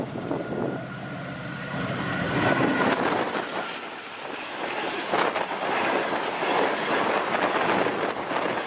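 A passenger train carrying a family toward Lahore rolls along the rails with a steady, continuous rumble and faint rhythmic clatter, fairly close and alone without voices.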